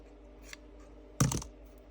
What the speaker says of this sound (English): I'm going to trim this off a little